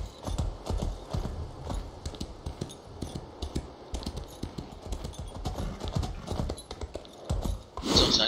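A horse clip-clops at a steady gallop while being ridden in The Elder Scrolls Online, with close, crisp hoof beats throughout and a louder burst near the end.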